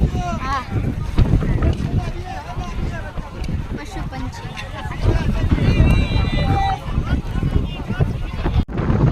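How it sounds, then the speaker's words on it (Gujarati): Strong wind buffets the microphone at a riverside Hanuman Jayanti full-moon fair, a constant loud roar with gusts. Crowd voices, children's shouts and toy whistles sound underneath, and people talk nearby. "અને પવન બહુ છે."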